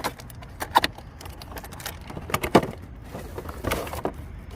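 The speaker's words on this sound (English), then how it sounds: "I'm opening up the filter." Plastic clips and the lid of the air filter box on a 2018 Honda Accord 2.0T being unlatched and opened by hand, a series of short, close, sharp clicks and rattles over a quiet background.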